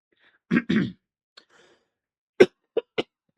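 Two harsh, close throat-clearing coughs, then a short pause and three quick sharp coughs, alone in a quiet room.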